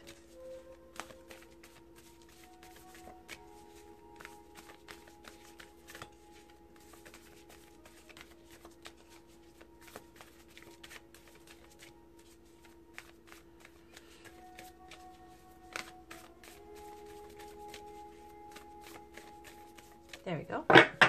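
Divine Feminine Oracle cards being shuffled by hand, a soft, steady papery riffling that runs under occasional faint talk, with a louder clatter of cards near the end.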